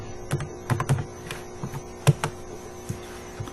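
Someone typing C++ code on a computer keyboard: irregular key clicks and thumps, close and moderately loud, over a steady low mains hum, with no voices.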